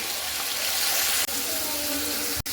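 Onion paste hits hot oil for spicy potato chatpati, a loud continuous sizzle and crackle throughout, steady and close, with a couple of brief dips.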